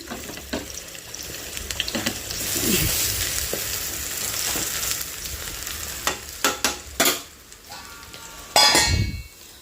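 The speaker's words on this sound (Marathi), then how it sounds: "अशी मस्त आपली अळवडी ना तेलामध्ये भाजून घेते मी शालो फ्राय करते" Steady oil sizzle of colocasia-leaf rolls shallow frying throughout, with a spatula scraping and several sharp metallic clinks of utensils against the pan near the end.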